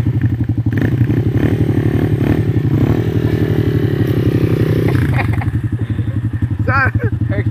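A 150cc motorcycle is ridden with a loud, steady, buzzing engine note that holds its pitch and shifts briefly near the end, with some rattle and scraping nearby.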